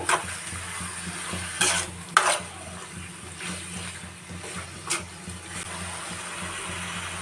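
Chicken liver fry stirred in a pan, a soft continuous scraping and faint sizzle with a couple of sharper utensil clinks near the start.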